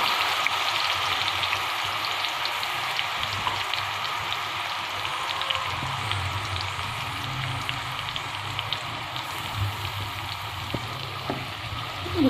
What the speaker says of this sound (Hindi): अब हम प्याज फ्राई करेंगे